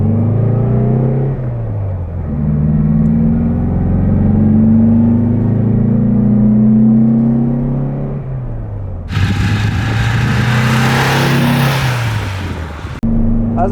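A 1962 Porsche 356 B 2000 GS Carrera 2 drives through the Alps, its engine rumbling steadily and rising and falling in pitch as it accelerates, with a broader burst of road or wind noise near the end.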